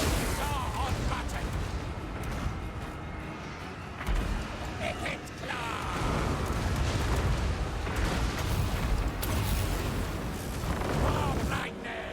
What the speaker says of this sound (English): Especially when their artillery is shooting their own troops.